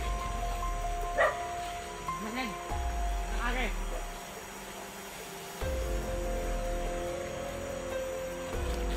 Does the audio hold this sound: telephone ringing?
no